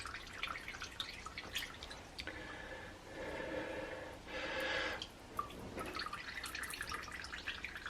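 Whey drips and squishes from yogurt cheese being squeezed by hand, a soft wet trickle rising in two stronger bursts between quieter drips, close and alone.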